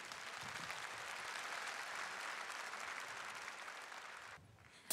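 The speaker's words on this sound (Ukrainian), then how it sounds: "Віталій, тобі аплодисменти" A concert hall audience applauds a composer with steady, dense clapping that stays full and even before dropping off sharply near the end.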